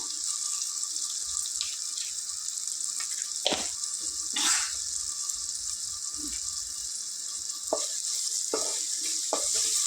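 Onions and green chillies frying in a pan, a steady bright sizzle running throughout with occasional scraping clicks of a spatula, close and fairly loud, no voices.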